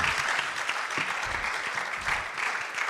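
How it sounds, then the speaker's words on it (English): Steady, loud audience applause at a national ICT week innovation session, a dense crowd of clapping hands sustained evenly for the whole stretch with no talk over it. "the applause for Abdullahi should be far more resounding"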